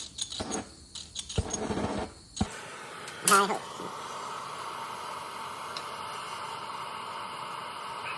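A torch heating a part on a Ford Jubilee tractor during a top lift rebuild gives a steady, faint roaring hiss that follows a few clanks and handling noises and then continues alone.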